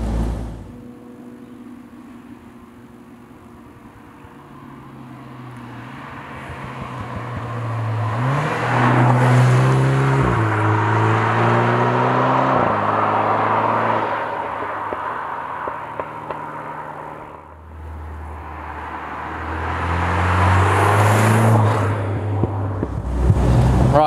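A 2024 Morgan Plus 4 sports car in Sports Plus mode revs and accelerates hard on an open road, its engine note climbing through several gear changes with loud, rising sweeps and brief drops between shifts.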